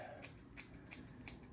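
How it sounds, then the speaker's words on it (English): Scissors snipping through hair, a quick run of crisp, close cuts with soft rustling between them, quiet and up close with no talking. "We need to cut more hair for our project."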